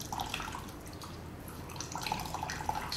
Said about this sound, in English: Once the cheese has stopped dripping,